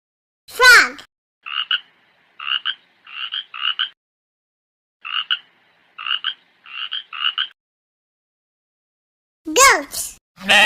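A frog croaks in a steady series of short, evenly spaced pulses, moderately loud and near, bracketed by sharper higher calls at the beginning and end.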